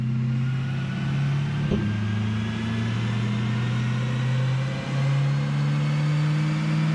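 A C8 Corvette with a Paragon exhaust holds a steady, loud engine drone during a dyno pull in track mode, the pitch shifting slightly partway through with no talking.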